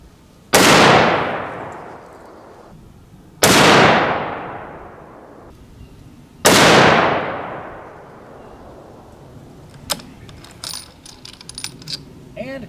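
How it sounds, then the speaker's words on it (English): Ruger M77 rifle in .243 firing a three-shot group, three loud, sharp cracks spaced a few seconds apart, each followed by a decaying echo, with faint handling clatter afterward. "I am going to just shoot a 3-shot group here."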